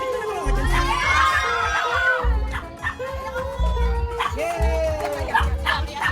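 Dogs barking in short repeated bursts close by at a family birthday gathering, with excited voices and cheering mixed in.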